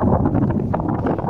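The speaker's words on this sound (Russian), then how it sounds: "Ветер." Strong wind buffets the microphone in a steady low roar with gusty rumbling fluctuations, close and loud, with no one speaking.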